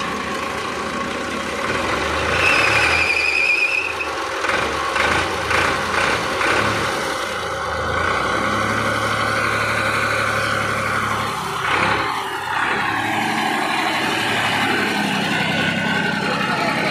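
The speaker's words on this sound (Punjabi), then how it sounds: "ਤੁਸੀਂ ਆਵਾਜ਼ ਸੁਣ ਲਈ ਟਰੈਕਟਰ ਦੇ ਸਾਊਂਡ ਵੀ" A 1984 Ford 3610 tractor idles steadily after starting, a continuous low diesel rumble heard close by, with some background clatter and noise throughout.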